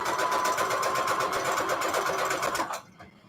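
A sewing machine runs in a steady, continuous whir of rapid stitching for nearly three seconds, close and fairly loud, then stops abruptly, leaving near silence with no talk.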